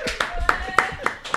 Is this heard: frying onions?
no